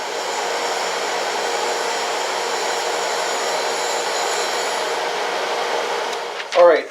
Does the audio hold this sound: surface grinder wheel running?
yes